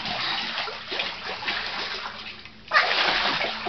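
Children swimming send up water splashing in steady, close churning, with a sharper, louder surge of splashes near the end, while kids' voices are heard faintly beneath.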